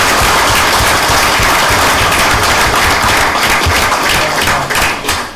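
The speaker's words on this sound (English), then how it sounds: "Just another round of applause for not only these fine folks, but everybody standing up here tonight." Loud, dense applause fills a town council meeting room, sustained clapping from a crowd honoring firefighters that carries on steadily throughout.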